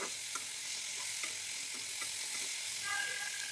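Parboiled jackfruit seeds with a pinch of salt fry in a pan, giving a continuous even sizzle with faint occasional clicks of stirring throughout.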